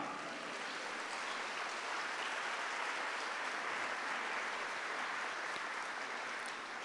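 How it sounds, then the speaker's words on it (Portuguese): Congregation applauding in a church during a Catholic homily, a dense continuous roar of clapping that stays even and loud from start to finish, with no distinct voices. "Merece um salve de palmas"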